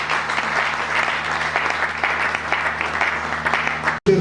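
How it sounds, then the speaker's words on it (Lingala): An audience claps in sustained, dense applause at even loudness, then it cuts off abruptly just before the end. "Est-ce qu'on peut acclamer?"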